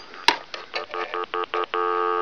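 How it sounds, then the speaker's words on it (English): A click of a wooden wall phone's handset, then a short run of quick touchtone telephone tones ends in a steady, continuous dial tone held to the end. "Dial tone."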